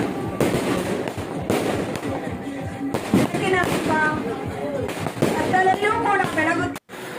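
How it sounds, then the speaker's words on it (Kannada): Repeated sharp firework bangs and crackles burst through a dense, noisy crowd at a neighbourhood Diwali celebration, with voices talking and calling out over the explosions. "ಸಮಯ ಎಷ್ಟು ಕಲರ್ಫುಲ್ ಆಗಿ ಪಟಾಕಿ ಇದೆ"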